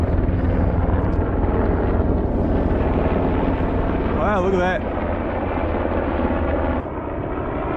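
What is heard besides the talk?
helicopters flying over the lake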